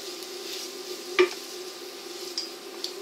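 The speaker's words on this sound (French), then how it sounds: "on va mélanger régulièrement et on va faire en sorte que tous ces ingrédients s'imprègnent du beurre que l'on a mis" Lentils and other ingredients being stirred in melted butter in a pan, a steady soft sizzle with one sharp scrape of the spoon against the pan partway through and a few fainter clinks.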